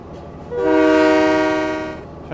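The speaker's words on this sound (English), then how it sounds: "tow the train to the electric train depot" Simulated electric train sounding a long, steady horn blast in Train Mechanic Simulator, rising in and holding for about a second and a half before fading, with no talk over it.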